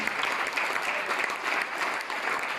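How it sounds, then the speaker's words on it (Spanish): A church congregation applauds steadily in praise, a dense, even wash of many hands clapping throughout with no pauses or speech. "Un aplauso para la gloria de Dios"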